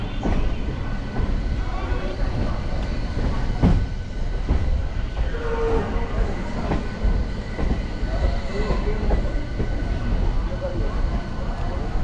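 A local train on the Howrah line rumbles steadily with continuous wheel-on-rail noise and a low, heavy drone, loud and close throughout.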